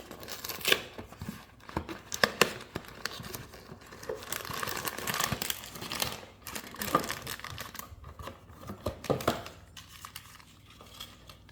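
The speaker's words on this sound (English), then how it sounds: "I'm going to start with opening it up from the bottom of the box." A doll's cardboard box being opened from the bottom, with close crinkling, tearing and scraping of cardboard and packaging in irregular bursts and no talking.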